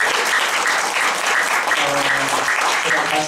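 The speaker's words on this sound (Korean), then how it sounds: "박수 좀 세게 치자니까." Loud, sustained applause from a lecture audience at a software education talk, many hands clapping together while a voice or two briefly rises beneath the clapping.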